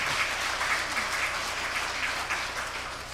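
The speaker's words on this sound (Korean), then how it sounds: "여러분이 칠 수 있는 최고의 박수를 한번 드리겠습니다." Church congregation applauding during a Sunday worship service, a dense, steady wash of clapping from many hands that fades slightly toward the end, with no talking over it.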